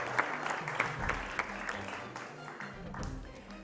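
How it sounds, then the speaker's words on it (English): Applause from a school quiz competition audience fills the room, a sustained patter of many hands clapping, moderately loud and continuous for a few seconds. "Please, a round of applause to our proud sponsors for bringing us this competition."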